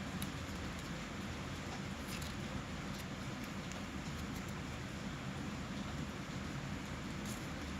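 Steady rain falls outside, a continuous, even hiss of moderate loudness that runs unbroken through the whole stretch with no voices.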